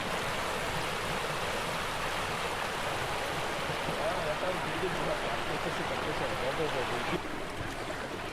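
Floodwater rushing from a breached lake into a village in Chikkamagaluru, Karnataka, after heavy rain: a loud, continuous roar of flowing water, constant and close throughout.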